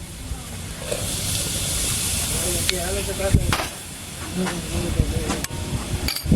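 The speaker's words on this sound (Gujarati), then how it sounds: "જીરું રાય આપણું રાય કકડી ગઈ" Hot oil hisses steadily with scattered sharp pops and crackles as mustard and cumin seeds sputter, and a voice speaks now and then.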